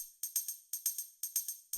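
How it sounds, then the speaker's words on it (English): A tambourine sample for organic house production, rhythmic jingling hits in a repeating pattern, bright and crisp with quick decays, about eleven strikes in under two seconds, heard alone and clean. "The next sound we have here is this tambourine."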